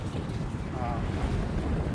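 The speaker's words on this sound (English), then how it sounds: "You can see it's still pretty windy." Outdoors at a replica of an old Texaco full service station in Bowling Green, Ohio, steady wind buffets the microphone in a continuous low rushing roar that lasts the whole moment.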